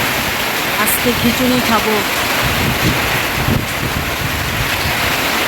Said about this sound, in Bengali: সকাল সকাল কি বৃষ্টি নেমে গেছে বন্ধুরা, দেখো যেন সন্ধ্যা হয়ে গেছে এমন বাতাস বৃষ্টি